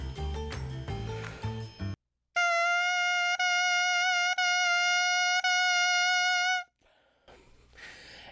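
A bassoon reed played on its own gives a buzzy, bright crow held on a steady airstream, briefly broken by five or six light tongued articulations. Short stretches of other sound come just before and after it.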